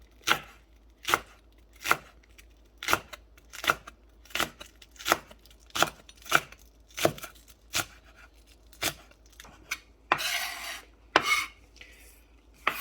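A knife slices green onions on a board in a steady, even rhythm of crisp, close chops, about two per second, ending with a rougher scraping sweep.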